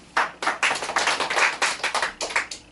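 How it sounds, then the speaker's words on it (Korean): Audience applause in a church sermon setting: a short burst of sharp, uneven handclaps in a quick irregular rhythm, fairly close and loud, with no talking over it. "박수."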